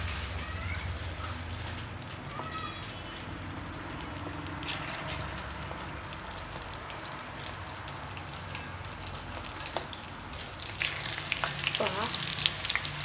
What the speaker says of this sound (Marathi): तेल चांगलं गरम झालं की आपण याच्यात कोफ्ते तळून घेणार आहोत।